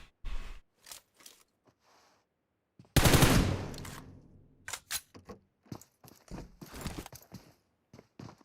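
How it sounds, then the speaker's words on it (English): Gunfire in a PUBG battle royale esports match, with scattered single shots and a loud, sustained burst of rapid firing, sounding fairly close amid other sharp in-game impacts. "And God just popping up some shots"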